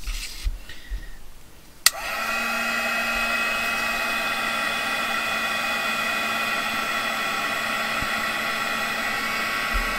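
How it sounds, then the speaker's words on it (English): A heat gun blows hot air in a steady, loud broadband rush that switches on abruptly with a click and then holds constant, after some quieter handling noise at the start. "Now we need my heat gun, which is somehow tangled."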